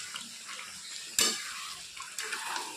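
Chicken being stirred in a pan with spices, soft sizzling and scraping with a sharp clatter of the spoon against the pan midway, close and moderately quiet, no talking.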